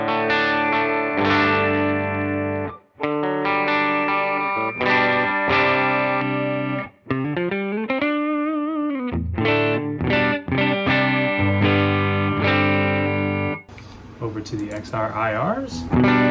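Electric guitar through an amp with a clean tone, via a Tone Factor XRIRs impulse response, rings out in sustained, amplified chords and notes, with a passage of bending, wavering pitch midway and a thinner, scratchier ending.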